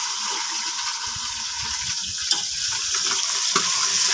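Onions frying in hot ghee in a cooker, a steady close hiss and sizzle that runs without a break, with a few faint clicks and stirring knocks beneath.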